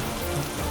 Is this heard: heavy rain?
yes